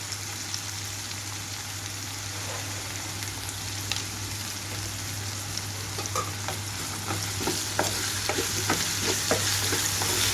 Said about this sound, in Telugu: మూత పెట్టేసి ఏడు నుంచి పది నిమిషాల వరకు లో ఫ్లేమ్లో వేయించుకుంటున్నానండి